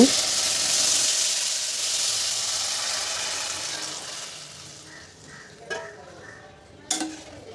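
Fried onions hiss loudly in a pan and the sizzle fades as boiled mung dal goes in, followed by two sharp clanks of a utensil against the pot.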